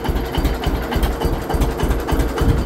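A John Deere 620 two-cylinder tractor engine runs close by with a loud, rhythmic chugging pulse that beats steadily and evenly throughout.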